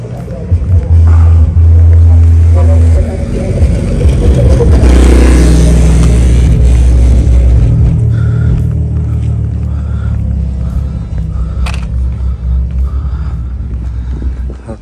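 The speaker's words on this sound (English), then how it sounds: "BMW is so loud." Loud BMW car engine revving on a city street in Chelsea, a deep low rumble swelling and holding strong before easing off, with traffic noise around.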